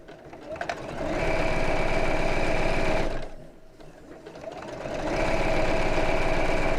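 A sewing machine stitches down the side of a bag in two long steady runs with a brief pause between them, a loud close mechanical whirr.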